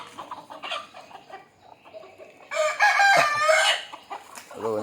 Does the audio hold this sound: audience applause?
no